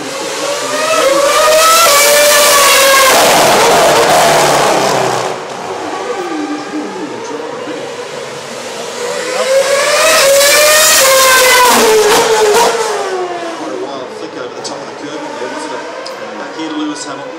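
Lewis Hamilton's Formula One car lapping at the Singapore Grand Prix, engine note rising and falling in two loud high-pitched passes with a quieter lull between, under commentary.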